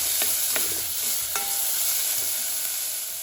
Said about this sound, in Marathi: आमी आतां बारीक चॉप करून पियाव घालया आनी बरो मातशें भाजया हो पियाव